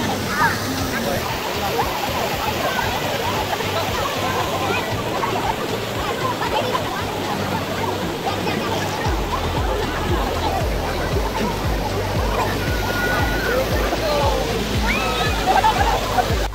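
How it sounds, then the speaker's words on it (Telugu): Water pours off rocks at a water park in a constant rushing splash, close and steady throughout, with voices talking over it. "అసలు ఇక్కడ వాటర్ చూడండి భలే పడుతుంది ఆ రాక్స్ మీద నుంచి"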